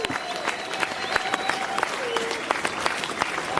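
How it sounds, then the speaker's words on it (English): An audience at a Vans skateboarding Q&A event claps and cheers, with steady crowded applause, sharp individual claps and occasional whistles, loud and continuous, while a voice speaks over it. "let's hear it for Pedro Barros and Ronnie Sandoval"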